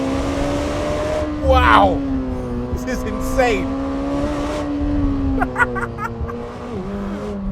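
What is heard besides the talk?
Lamborghini Temerario engine revving high while accelerating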